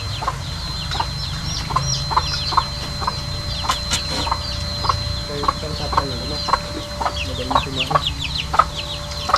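Chickens cluck over and over in short, close calls above a steady low background hum, with a thin high tone running underneath throughout.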